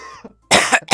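Sharp, harsh bursts of coughing from people in a quiet room, a weak lead-in cough followed by two loud, close, noisy fits with a brief pause between them.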